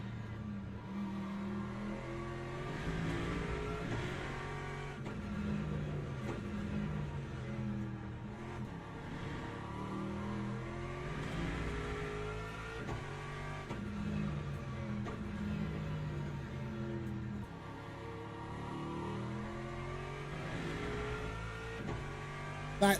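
Hypercar engines race in the Le Mans Ultimate video game, a continuous engine drone that rises and falls as the cars rev and shift gears, steady and moderately loud for the whole stretch, with no voices.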